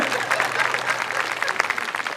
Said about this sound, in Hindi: एक बार जरा जोरदार ताली बजाए इसकी समझदारी पे।